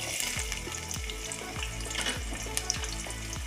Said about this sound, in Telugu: నూనె కాగింది కదా ఉల్లిపాయలు వేసుకుందాం